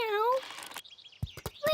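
A cartoon cat, Candy Cat from Peppa Pig, gives a short, high, falling meow up close, followed by brief squeaky cartoon sound effects.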